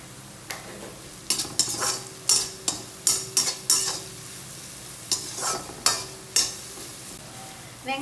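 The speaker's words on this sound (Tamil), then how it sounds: "1 கப் கட் பண்ண பெரிய வெங்காயத்தை சின்ன சின்னதா கட் பண்ணதை போடுறேன்." Chopped large onions with curry leaves fry in a pan for carrot poriyal, giving a steady soft sizzle. Close, sharp scrapes of a spoon stirring against the pan come in irregular bursts, with no talk.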